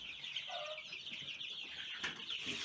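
Soft, busy clucking and cheeping from middle-aged and older chicks continues throughout, a steady chatter of several birds close by with no talking.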